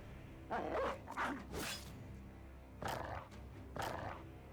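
War dogs in the tactical game Battle Brothers give several deep, rough barks and growls in short bursts amid low battle ambience, fairly close but not loud.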